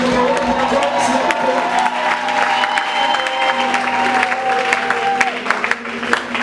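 Church congregation applauding and cheering continuously at a Sunday service, a steady, dense wash of clapping and crowd acclaim with some voices and a sustained tone mixed in.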